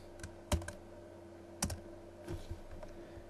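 Typing on a computer keyboard: a few quiet, irregular key clicks, with two sharper taps standing out over a faint steady background hum.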